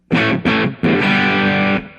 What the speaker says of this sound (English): it's obviously giving you quite a bit of boost to go into that distortion pickup